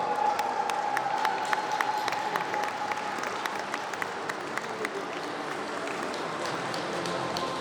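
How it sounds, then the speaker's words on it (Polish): A crowd claps steadily and evenly at an award ceremony for the best goalkeeper of a youth football tournament, soft and a little distant, with no voices on top. "Wielkie brawa!"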